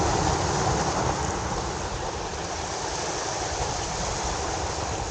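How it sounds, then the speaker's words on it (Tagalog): Strong waves churn at a fishing spot at Baseco, a loud, steady broadband rush of water that fills the whole stretch with no break and no voices. "lakas ng alon"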